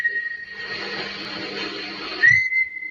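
A person whistles outdoors at night, a single steady high tone held for about two seconds and ending in a brief upward slide, alone with no talking.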